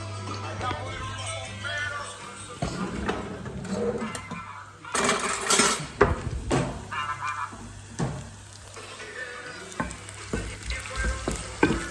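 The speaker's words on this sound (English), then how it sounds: "So we're going to let this fry a little bit now." Vegetables frying in olive oil for Sicilian caponata, a soft crackling sizzle with stirring clatter and a burst of louder hissing midway, while a person talks intermittently over it.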